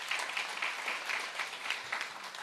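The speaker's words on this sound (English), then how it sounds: "So another special round of applause for that," An audience at a school debating competition gives a round of applause, a soft, dense wash of many hands clapping that sounds fairly distant and steady.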